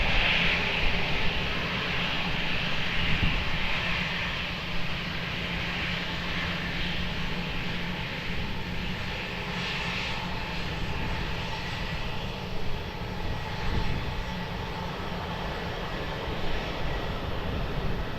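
Steady, continuous roar of airliner engines at Lisbon Airport during departure, a broad sustained rumble holding fairly level throughout, heard from a moderate distance with no voices.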